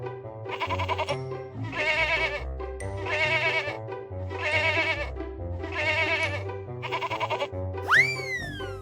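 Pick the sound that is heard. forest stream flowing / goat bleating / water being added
goat bleating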